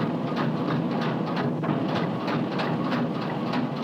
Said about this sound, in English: As it speeds up, the sound you'll hear is like a railroad car with a flat wheel.